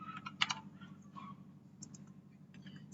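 Typing on a computer keyboard while entering a router configuration command, soft close key clicks in irregular short bursts, faint and quiet over a low steady hum.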